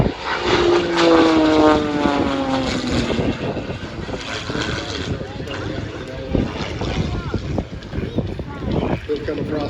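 A propeller aerobatic airplane engine roars loudly and shifts pitch as it dives past at an airshow, with a commentator talking over it throughout.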